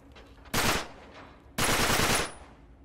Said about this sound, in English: Back up, I'll shoot the lock.